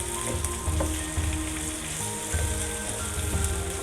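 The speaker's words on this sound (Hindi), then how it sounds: "अब मैं इसके अंदर भिंडी ऐड करता हूँ, बिस्मिल्लाह, और भिंडी को भी हम मिक्स करते हैं।" Okra and softened onions frying together in a pan for dhaba-style bhindi masala, a dense continuous sizzle like rain on a surface, with faint stirring movements underneath.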